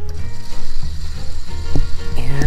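A Hotel Chocolat Velvetiser hot chocolate maker whirs into action after its button is pressed, giving a close, uneven mechanical hum with small clicks and rattles.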